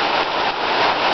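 Heavy rain pours during a flood, a steady, loud, dense hiss of downpour with no pauses and no voices.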